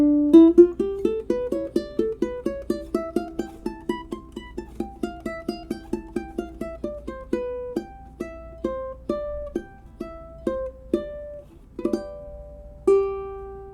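A ukulele plucks the last four bars of Mozart's Sonata in C Major as single clear notes, a rising and falling run that slows to spaced notes at the end, close and alone.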